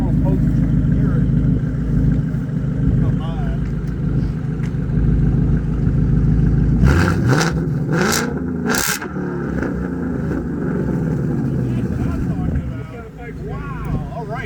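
A 2024 Ford Mustang GT with Ford Performance exhaust idles with a deep rumble, then is revved in several sharp, loud bursts before settling back to idle, with voices talking under the engine.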